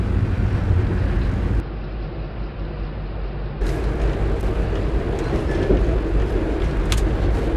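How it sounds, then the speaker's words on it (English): VIA Rail's Canadian passenger train crossing a flyover above Canadian Pacific tracks gives a loud, steady rumble of wheels and car noise heard from onboard, dipping briefly before the roar returns with faint rail clicks. "Our train is now crossing a flyover that was built to take the line over the Canadian Pacific tracks."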